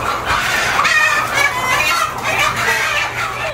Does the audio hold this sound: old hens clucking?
yes